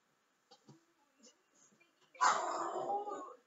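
A small dog gives a few faint, scattered yips and whimpers, then a louder, sustained whining cry near the end.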